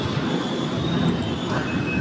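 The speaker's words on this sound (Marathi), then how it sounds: "ट्रेन पण आली आहे." A metro train pulls into a station platform with a continuous rumble, metallic wheel squeal and a high whine, loud and close throughout.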